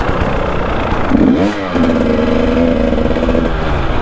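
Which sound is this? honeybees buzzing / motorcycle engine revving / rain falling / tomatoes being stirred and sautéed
motorcycle engine revving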